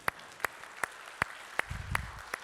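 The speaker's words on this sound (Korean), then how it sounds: "우리 박수로 한번 축하해 줍시다" A church congregation at a Korean worship service claps in slow, evenly spaced beats, about seven sharp claps in a steady rhythm, with a brief low murmur near the end.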